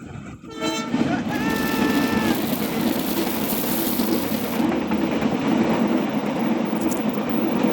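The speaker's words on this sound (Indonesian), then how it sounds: "Lokomotifnya kebalik. Kereta Serayu." A Serayu passenger train hauled by a locomotive running in reverse passes close by, opening with a loud horn blast and then a sustained roar of wheels and engine.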